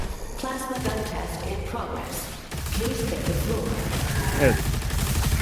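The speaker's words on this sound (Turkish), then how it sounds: "Uzi gibi plazma atıyor" A plasma pistol in DOOM The Dark Ages fires in rapid bursts, a quick series of sharp energy shots over heavy game noise and rumbling ambience, with someone talking at times.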